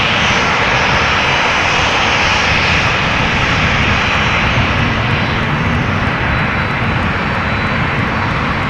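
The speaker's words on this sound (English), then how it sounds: "I'm hearing something, and it's not this airplane. It's a 767 from TUI coming this way." Loud, steady roar of a TUI Boeing 767 jet approaching at Amsterdam Schiphol Airport, a broad continuous engine rumble with a hissing upper layer that holds close and unbroken throughout.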